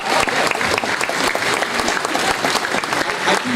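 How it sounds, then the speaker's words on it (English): Full, dense applause from a school concert audience honoring parent volunteers, steady and loud throughout with many hands clapping at once. "Please, a round of applause."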